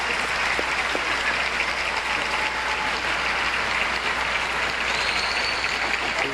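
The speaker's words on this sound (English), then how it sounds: "join with me, the faculty, and the trustees in applauding some of the most remarkable people in higher education today" A large graduation audience at MIT applauds in 1990, a dense, continuous wash of clapping that stays loud and steady from start to finish, with no voices standing out.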